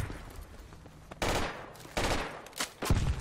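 Enemy gunfire in a combat video game, several short loud bursts of rapid shots separated by brief pauses, sounding fairly close, with no talk over it.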